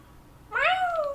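A house cat meows once from downstairs, a single drawn-out, clear call that starts after a quiet pause and is cut off by another brief sound at the end.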